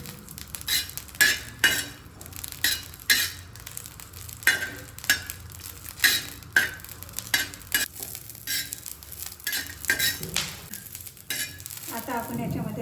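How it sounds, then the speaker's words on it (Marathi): Green chillies roast in a pan over a low flame for a spicy Maharashtrian thecha, with a steady soft sizzle under repeated clinking stirs of a spoon against the pan, close up and rhythmic. "मंद आचेवर चांगली भाजून घ्यायची आहे"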